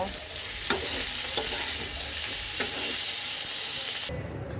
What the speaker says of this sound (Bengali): ফুলকপিটা তো আমার সেদ্ধ করা জাস্ট কয়েক মিনিট দু এক মিনিট তেলে ভেজে নেব